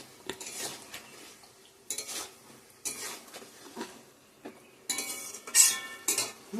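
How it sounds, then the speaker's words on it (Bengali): Spice paste with green chilli, ground coriander, cumin and chilli powder is stir-fried in a pan, heard as intermittent close scraping and clinking of a utensil against metal between quieter pauses. "ভালো করে কষিয়ে নিই।"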